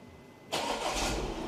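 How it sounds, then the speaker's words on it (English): A car engine cranks and fires after a remote start command, going from near silence to a sudden starter burst then settling into a steady idle rumble, close by and moderately loud. "And the car started."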